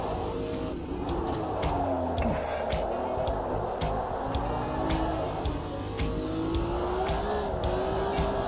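In a racing video game, a car engine drones steadily and revs up and down as it is driven on cold tyres, with clicking sounds on top and no gaps.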